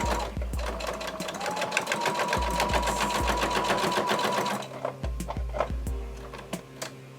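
A sewing machine stitches a box stitch on a messenger bag, running in fast, even needle bursts with short pauses and thumps at each pivot, close and loud with no voices.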